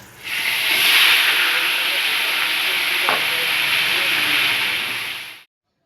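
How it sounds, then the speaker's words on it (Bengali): Whole garam masala hits hot oil with a loud, steady sizzle that holds close and even for about five seconds before cutting off abruptly. "এবার ওই তেলে আমি কিছু গোটা গরম মশলা দিয়ে দেবো।"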